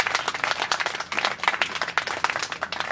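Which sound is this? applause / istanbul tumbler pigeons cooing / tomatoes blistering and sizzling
applause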